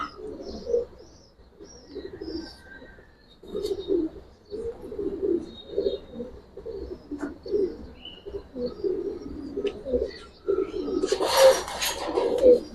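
Giribaz pigeons of an old Bagha and Jabra line coo in low, repeated throaty phrases at close range, with faint chirps above and a brief burst of wing flapping near the end.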